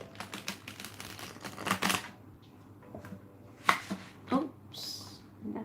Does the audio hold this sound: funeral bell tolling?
no